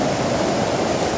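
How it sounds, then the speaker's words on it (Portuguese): A waterfall pours steadily in a forest setting, a loud, even rushing hiss of falling water filling the whole moment without any talk. "Só contemplando essa beleza da cascata aqui,"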